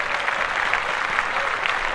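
Applause from a podcast's live audience congratulating someone, a steady dense patter of clapping lasting about two seconds with no one talking over it.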